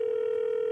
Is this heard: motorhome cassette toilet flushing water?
no